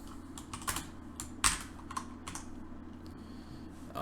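Rapid typing on a computer keyboard while writing code for a browser-based game, with a steady patter of close key clicks and a few sharper, louder strikes, no voices.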